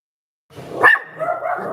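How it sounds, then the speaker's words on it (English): Pet dogs bark indoors in the background, one sharp close bark followed by a rougher, trailing yelp and whine, fairly loud with no talk over it. "Sorry about the barking in the background."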